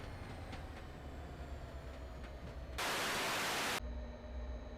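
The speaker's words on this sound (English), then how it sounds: "I swear the prime mover sound on the MBTA locomotive is reused from the Caltrain F40PH-2 Cat that Dovetail made in 2019" Steady low diesel rumble of an MBTA locomotive's prime mover in the Train Sim World 5 game, continuous and droning, briefly overwhelmed by a loud burst of hiss before the engine drone returns.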